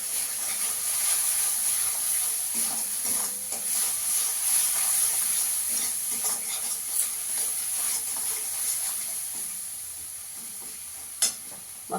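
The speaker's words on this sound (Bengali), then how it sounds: "দিয়ে মশলাটাকে ভালো করে কষিয়ে নেব।" Spice paste with coriander powder and salt frying in a pan for egg chicken mughlai, giving a dense, steady sizzle and hiss with faint stirring scrapes and one sharp knock near the end, and no voices.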